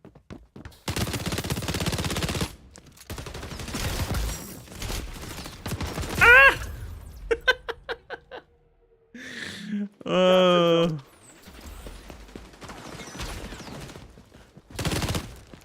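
An SMG in the shooter game xDefiant fires repeated bursts of rapid gunfire, loud and close, broken by brief pauses, with a voice talking in between and other in-game effects.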